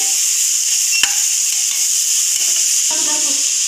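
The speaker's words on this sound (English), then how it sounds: "After 2 minutes of sauteing tomatoes, add paprika." Tomatoes sauté in a hot pan, a loud continuous close-up sizzle with a couple of brief stirring clicks and scrapes, no talking.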